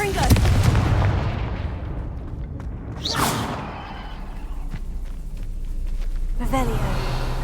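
A Confringo fire spell blasts in Hogwarts Legacy, with a sharp burst near the middle and another near the end over a steady rumbling game soundtrack.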